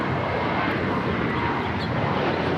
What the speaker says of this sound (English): This is JetBlue 1488 taking off to Boston on the A321